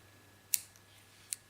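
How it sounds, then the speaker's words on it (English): Scissors snip crochet yarn in two quick, crisp clicks a moment apart, close and faint against a quiet room. "I'm going to cut my yarn"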